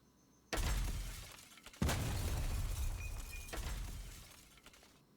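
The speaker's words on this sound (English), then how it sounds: "3 sound effects of the explosion." A downloadable sound-effects pack explosion plays twice in a row: each begins with a sharp, loud burst with shattering glass-like debris and then fades into a rumbling tail, with the second blast hitting about a second after the first.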